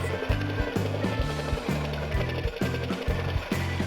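A power saw, most likely a scroll saw, cutting scrap wood into reindeer pieces: a loud, close, steady rhythmic chatter of rapid blade strokes with a pulsing low hum, continuous throughout without talking.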